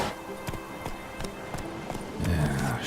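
Roach the horse galloping in The Witcher 3: Wild Hunt, evenly spaced hoof thuds at a steady pace over a low ambient game background, with a brief louder swell near the end.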